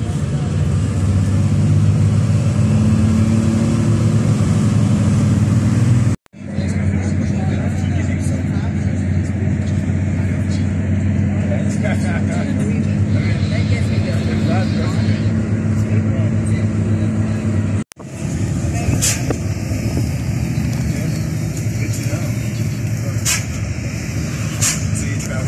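Car driving along a mountain road from Baños to Cuenca, Ecuador, with a steady loud road and engine rumble and tire noise, two brief dropouts, and someone talking over it much of the time.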